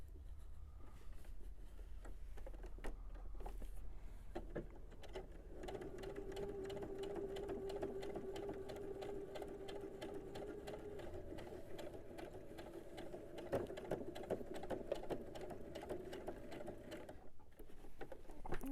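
Home sewing machine stitching the corners of a quilt block, a steady whirring hum running for several seconds in the middle, starting and stopping with light handling clatter around it.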